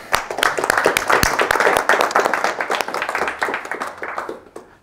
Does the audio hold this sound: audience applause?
yes